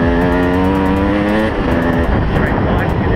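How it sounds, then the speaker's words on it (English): A motorbike ride along a forest track, with a loud, close engine drone and shifting revs under wind buffeting, a rider's voice talking over it. "any day's a good day to be out on a motorbike"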